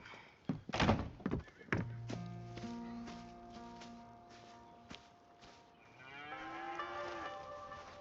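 Cattle in the Red Dead Redemption 2 video game give several loud, drawn-out moos, each a long low call, mixed with a few close thumps and footstep-like knocks.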